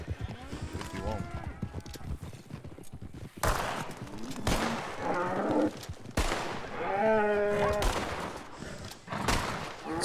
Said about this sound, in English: Stop shooting the cow!